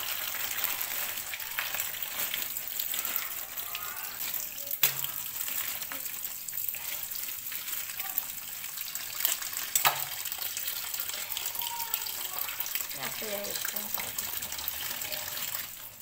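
Running tap water splashes steadily while raw chicken skin is rinsed, a faint continuous hiss with occasional clinks and knocks of handling.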